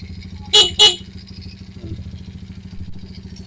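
Two short, loud honks from a motorcycle horn in quick succession over the low putter of an idling engine fitted with a capacitor in its wiring.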